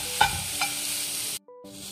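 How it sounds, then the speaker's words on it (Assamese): Coconut and sugar frying in a pan while being stirred for coconut laddu, a steady close sizzle broken by two sharp scraping stirs, then a brief near-silent gap before the sizzling returns. "এয়া আমাৰ নাৰিকল আৰু চেনি ভজা প্ৰায় হৈয়ে গৈছে, আৰু 2 মিনিটমান ভাজি দিওঁ"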